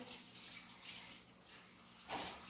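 Running tap water pours steadily as hands are washed, a faint continuous splashing stream with a brief louder gush near the end.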